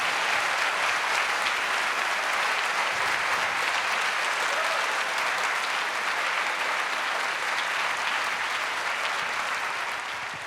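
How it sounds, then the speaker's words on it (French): Thunderous, dense applause fills the Auditorium Jacques Brel at a February 2024 concert by a children's choir, sustained loudly for about ten seconds before easing slightly at the end, with no talk. "tonnerre d'applaudissements"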